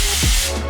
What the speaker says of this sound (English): you can be generous with the oil, with the spray